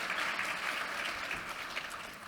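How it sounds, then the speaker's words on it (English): Audience applause after a panel discussion on South Africa's payments landscape, a steady, even clapping from a crowd sustained throughout at moderate level, with no talk over it. "can we give Melanie a big round of applause for an excellent job done moderating?"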